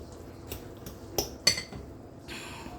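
Spices mixed in a bowl with cutlery, a few distinct clinks and scrapes of utensil against the bowl at close range, quiet between the strikes, with no talking.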